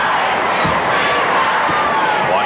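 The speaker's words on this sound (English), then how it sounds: "Pretty good crowd on hand for the afternoon session." A large indoor crowd murmurs steadily at a 1994 Minnesota state semifinal high school basketball game, a dense continuous wash of voices with faint shoe squeaks and thumps beneath, no single voice standing out.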